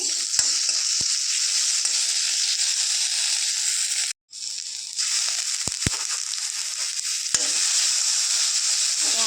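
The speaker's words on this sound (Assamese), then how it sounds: "ফ্ৰাই কৰি লম গোল্ডেন ব্ৰাউন হোৱালৈকে" Onions for a spicy pork curry sizzle loudly and steadily in hot oil while frying toward golden brown. The hiss cuts out briefly once, and a few sharp clicks and taps break through.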